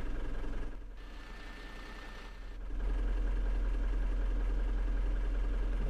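Simulated city bus engine idling in OMSI 2 on Berlin route 110, a steady low diesel rumble with a faint whine that dips quieter for a couple of seconds, then returns louder and constant.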